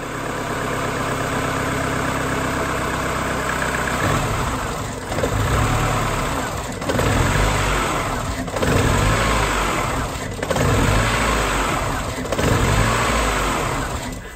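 A car engine under repair idles roughly and close by on the edge of stalling, its loud, uneven rumble dipping in regular surges every second or two.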